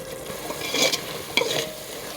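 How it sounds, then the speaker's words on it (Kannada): Biryani masala frying and being stirred on medium flame for mutton dum biryani, a soft sizzle with two brief scraping strokes of a spoon in the pan, close and without talk. "ಫ್ರೈ ಮಾಡ್ಕೊಳ್ಳೋಣ"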